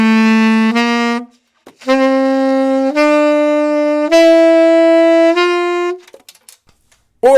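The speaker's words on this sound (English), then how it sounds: "just put a little bit of the mouthpiece in our mouth and blow, and that ends up getting a sound like this" Saxophone blown with only a little of the mouthpiece in the mouth, a series of held notes stepping upward with short breaks between, close and clear, tone thin and edgy, no talking.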